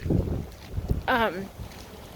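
Wind buffets the microphone with low rumbling gusts on an outdoor trail, and a voice talks briefly over it.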